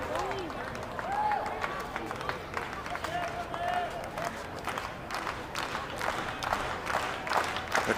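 A baseball crowd at a summer-league game claps in unison, rhythmic rapid clapping spread across the stands, moderately distant, mixed with general crowd noise and some voices.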